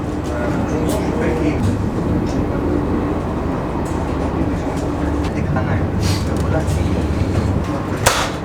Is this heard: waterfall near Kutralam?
no